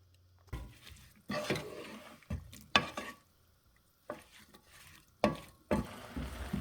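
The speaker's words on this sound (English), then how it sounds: "you're going to make sure that you stir it all the time. You don't want the bottom to burn." A spoon stirs spicy jam in a pan on the stove, making intermittent scraping and clattering strokes against the pan, with quiet gaps between them, close and fairly soft, with no talking.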